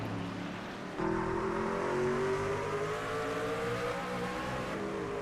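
Race cars in the VRL Vanquish Series sim racing game at Watkins Glen, New York, brake hard into turn one, several engines droning loudly with steady pitched tones that sweep slowly through the pass.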